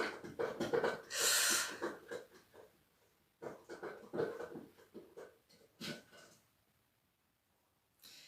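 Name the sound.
dog playing with a can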